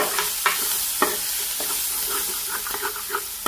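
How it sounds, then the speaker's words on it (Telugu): Onions fry in hot oil for chicken curry, a steady close sizzle broken by frequent scraping stirs of a spoon against the pan. "ఇక్కడైతే ఇంక ఉల్లిపాయలు వేస్తున్నా చికెన్ కోసం"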